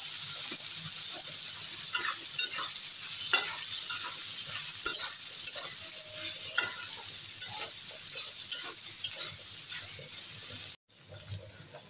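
Soya chunks (Nutrela) fry in hot oil, a steady close sizzle with occasional stirring scrapes and small pops, continuing alone before a brief cut near the end.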